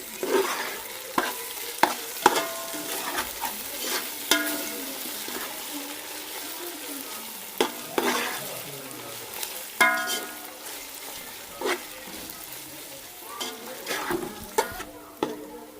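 Ginger-garlic paste frying in a pan for a Punjabi red potato curry, with a busy sizzle, repeated spatula knocks and scrapes, and a watery bubbling undertone, close up.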